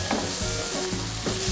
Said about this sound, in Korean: 양파와 마늘을 같이 섞어가면서 익혀주도록 할게요.